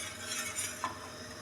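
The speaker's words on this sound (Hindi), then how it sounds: "इसके अंदर आपने मुसलसल चमचा चलाते रहना है ताकि गुठलियाँ ना इसमें बन जाएं।" A spoon stirs a milk dessert mixture in a pot over the flame, giving a soft, steady scraping swirl with one brief clink near the end, close and alone without talk.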